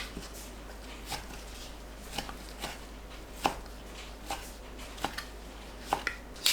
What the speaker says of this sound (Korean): 1cm 간격으로 썰어주세요.